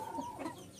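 Fancy poultry at a farm in Joypurhat, Akkelpur: a single brief, soft cluck from a chicken close by, heard alone.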